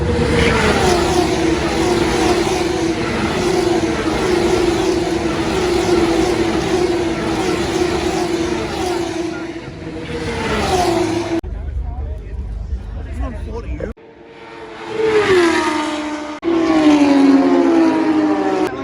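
Porsche race cars lapping Monza, a loud sustained engine roar with passing pitch sweeps, a brief lull partway through, then more cars screaming by near the grandstand, with crowd murmur underneath.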